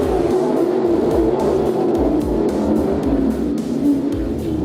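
IMCA Modified race cars in a B main heat at Cottage Grove Speedway, engines droning loud and steady with rhythmic surges as the pack circles the dirt oval.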